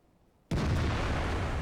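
Object 261 self-propelled artillery gun firing in the tank video game World of Tanks: after a quiet moment, a single sudden loud blast booms in and rolls on as a sustained heavy rumble.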